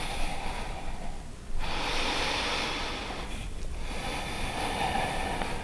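Slow, deep yoga breaths, a long airy exhale followed by an inhale, then another breath cycle, close and steady without any talking.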